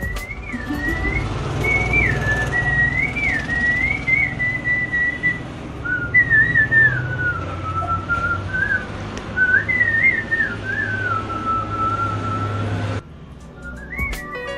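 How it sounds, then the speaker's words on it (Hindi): A man whistles a melodic tune from old and new songs, a clear sustained wavering line with phrase breaks, loud and close over a low background hum, stopping near the end. "गानों की सीटी में प्रैक्टिस करते रहते।"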